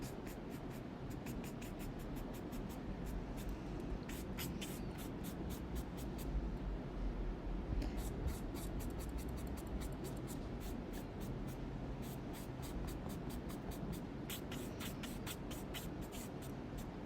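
A pencil drawing lightly on paper during a still-life sketch, giving faint, quick scratchy strokes in repeated bursts with short pauses, over a quiet room hiss.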